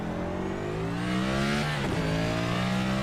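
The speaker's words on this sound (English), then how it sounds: "let's just listen to the car for a little bit" A NASCAR Cup race car lapping the Charlotte Roval drones steadily at high revs, its engine pitch holding, dipping briefly as it shifts, then climbing again, continuous and fairly close.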